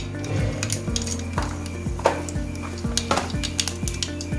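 Mustard seeds and urad dal go into hot oil in a pan, giving a light sizzle under several sharp metallic clinks and spoon taps against the pan.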